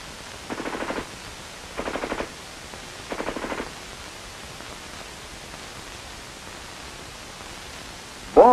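Three short bursts of automatic fire from a US infantry weapon, each a rapid rattling volley about half a second long, separated by pauses over a steady hiss, with a brief sharp noise at the very end.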